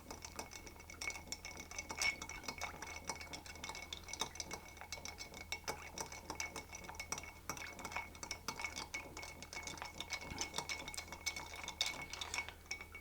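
A cocktail of rum, Campari and Green Chartreuse being stirred, with a spoon ticking and clinking steadily against glass and ice, quiet and close, no talk.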